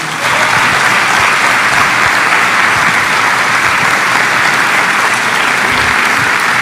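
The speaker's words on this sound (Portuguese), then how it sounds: "Eu gostaria que a igreja recebesse esse servo do Senhor, aplaudindo o Senhor Jesus." A church congregation at a missions symposium gives loud, sustained applause, a thick, continuous roar of many hands clapping together for several seconds.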